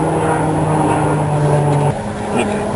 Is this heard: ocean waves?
no